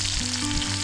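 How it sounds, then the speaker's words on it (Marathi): Cumin and mustard seeds crackle and sizzle in hot oil as dal is tempered at a lakeside campsite, a steady, close, dense frying hiss with a faint low hum beneath. "आता मस्त डाळीला आम्ही इथं फोडणी देणार आहे"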